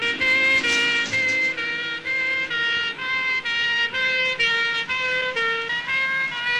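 An ambulance siren wails continuously in a steady, repeating two-tone pattern, loud and close, with no other sounds standing out, in a scene from an Egyptian comedy film.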